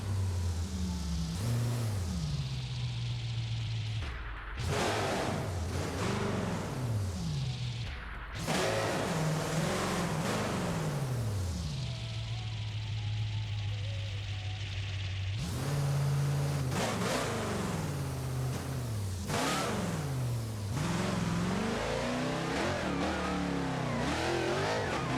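A Dodge Durango SRT fitted with a Demon supercharger in BeamNG Drive revs repeatedly, engine note climbing and falling in aggressive bursts with supercharger whine, loud and close across the whole stretch.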